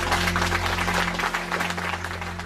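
A concert audience applauds to welcome a band from Georgia onto the stage, steady clapping with a low electrical hum running beneath it.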